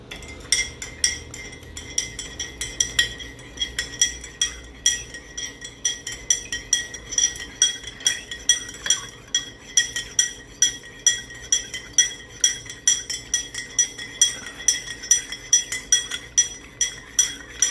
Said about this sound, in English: what we're going to do next is we're going to mix our tea with our sugar.